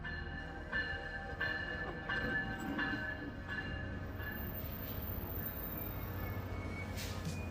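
A single-car shuttle train in downtown Miami rumbles steadily while a bell dings repeatedly in a regular rhythm, with faint metallic squeals as it pulls in.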